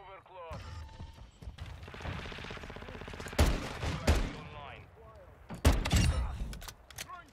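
Video game gunfire around a .50 GS sniper rifle, with bursts of rapid shots and several sharp loud cracks and booms standing out, while someone talks over the action.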